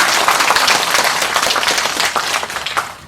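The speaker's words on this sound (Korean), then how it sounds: "앞으로 더 성장하시라고 큰 박수 부탁드리겠습니다." Audience applause at a community welfare center's results-sharing event, a dense, steady clapping crowd close by that holds for about three seconds before tapering slightly, with no talk over it.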